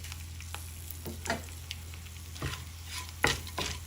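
Fenugreek seeds and cumin frying in a pan for tomato mint chutney, a steady quiet sizzle with several sharp stirring scrapes and knocks against the pan, close by and without talk.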